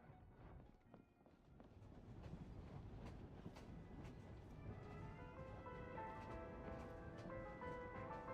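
Train rolling along inside the video game Genshin Impact, a steady low rumble that builds after the first two seconds and holds, with faint tonal hums layered over the continuous motion.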